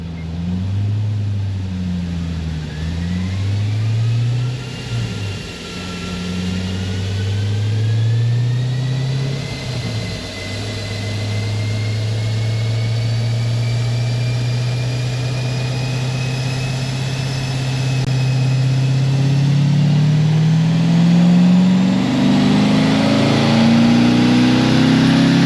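An LS7 V8 engine with a ported cylinder head idles with a deep, lumpy exhaust note, wavering at first and then holding steady, before its pitch climbs gradually as revs rise near the end.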